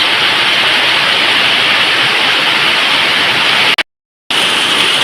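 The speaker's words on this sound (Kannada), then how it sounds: "ಬೆಳಗ್ಗೆ ಬೆಳಗ್ಗೆ ಮಳೆ ಶುರುವಾಗಿದೆ ನೋಡಿ" A dense, steady roar of morning rain pours without a break for several seconds, then cuts out to silence for a moment before the wash of falling water returns.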